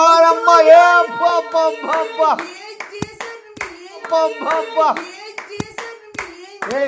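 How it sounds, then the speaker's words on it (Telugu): Sharp hand claps in a loose rhythm under a close voice singing or chanting, the claps standing out as crisp snaps between the vocal phrases. "క్లాప్స్ కొట్రే"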